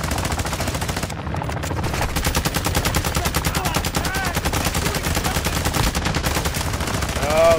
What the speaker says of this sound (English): We'll shoot it. Just shoot it.